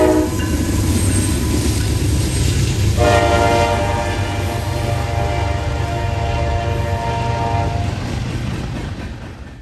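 Freight train led by a CSX ES44DC and a Norfolk Southern ET44AC locomotive, sounding a loud, sustained horn close by over the heavy rumble of the passing train, with the horn dropping away near the end.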